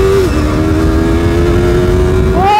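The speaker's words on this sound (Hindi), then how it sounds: "ओ भाई क्या पावर आई है भाई बाइक में" Yamaha R3 motorcycle engine revving loudly and close, holding a steady high drone with its pitch rising sharply near the end as the throttle opens, no talking over it.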